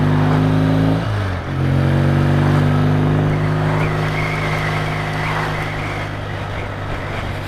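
Throttle blips from a Triumph motorcycle engine fed by AMAL carburettors: a steady idle rising sharply around the first second, then sustained revving with a slight hesitation, loud and close, no talking.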